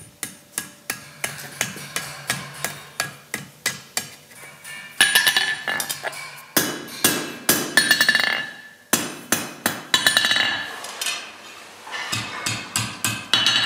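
An iron pan handle's tip hammered around a forging attachment on an anvil: a steady run of sharp, loud metallic strikes, close and ringing, some in quick pairs, continuing throughout with no talk.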